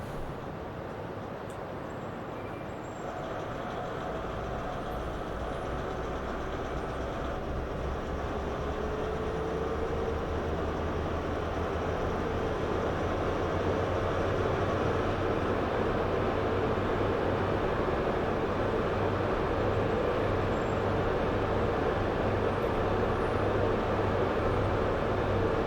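A simulated HST diesel train in Train Simulator 2021 on the York to London route, with a steady engine drone and rumble that rises in level after a few seconds and holds loud and continuous with no talk.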